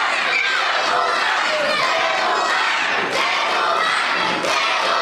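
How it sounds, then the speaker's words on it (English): Wrestling crowd at a live event shouting and roaring continuously, dense and loud throughout with no letup, voices blending into one steady mass of noise. "And you hear the crowd, they want to see the Devilman get his comeuppance"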